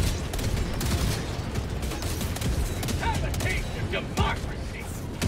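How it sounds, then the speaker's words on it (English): Mortar shells burst all around in the video game Helldivers 2, a dense continuous rumble of overlapping blasts and crackling debris with voices talking over the chaos. "The mortars are just killing everything in a 360 now."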